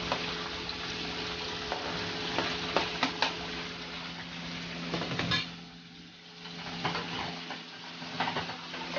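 Diced tomatoes hitting a hot pan give a steady, close sizzle with spoon scrapes and stirring clatter, easing slightly near the end.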